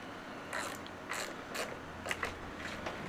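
Small bolts on a Briggs and Stratton ignition coil being snugged down with a ratchet: a few faint, brief ratcheting clicks in separate bursts, quiet and close, with no talking.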